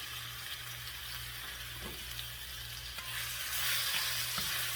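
Minced garlic sizzles in a hot pan for a Mongolian beef dish, a steady, close frying hiss that swells slightly near the end, with no voices.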